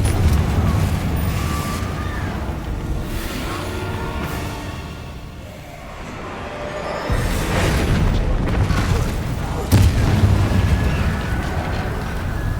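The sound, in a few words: Confringo spell explosion in the Hogwarts Legacy video game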